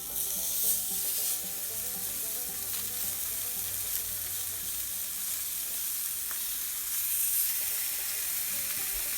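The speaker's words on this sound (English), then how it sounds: "Once your pan is nice and hot, you can go ahead and lay your steaks in there." Steaks sear in a hot pan, giving off a loud, continuous, crackling sizzle that holds steady throughout with no voices.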